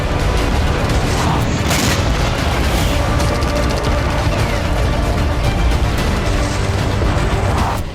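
Wartime explosions and heavy fire in Bakhmut form a loud, continuous low rumble. Booming blasts and sharper cracks overlap throughout, without any pause.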